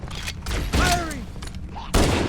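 Gunfire in Halo: Combat Evolved Anniversary aboard the Pillar of Autumn, with loud bursts of rapid shots and energy-weapon whines against battle noise and a brief shouted voice.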